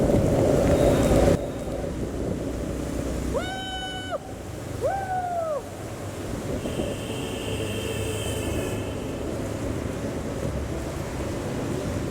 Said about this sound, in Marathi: हाच आहे तो माळशेज घाटचा बोगदा.